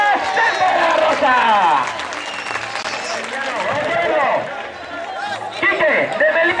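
Crowd applause at a bull-leaping recortes contest in Cifuentes, 2017, rolling steadily through the clip beneath a loud, excited announcer calling over the arena.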